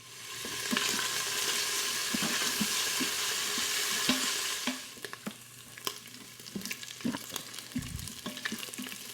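Food frying in a pan for a pasta all'amatriciana, crisping up: a loud, dense sizzle for the first half, then a quieter crackle with scattered pops and spatters, no talking.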